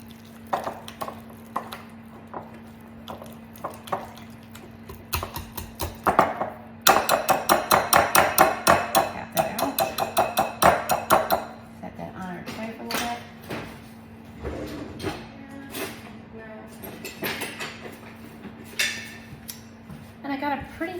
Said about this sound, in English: And then we're gonna just whisk that together.